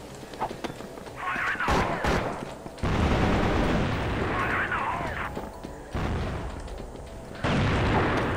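Gunfire in the video game CrossFire, likely an AWM sniper rifle: sharp, booming shots stand out from dense, continuous game noise.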